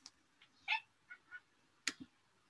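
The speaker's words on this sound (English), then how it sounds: "Sorry if you can hear my cat meowing in the background." Several short, faint meows come from a cat at a distance, scattered irregularly with quiet gaps between them.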